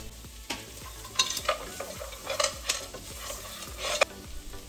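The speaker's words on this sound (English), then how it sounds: "And add in the star anise, bay leaf, cinnamon, and rock sugar. Stir very well." Star anise, bay leaf, cinnamon and rock sugar are stirred in a hot pan: repeated scraping strokes at an irregular rhythm over a steady low sizzle, close up, with no voices.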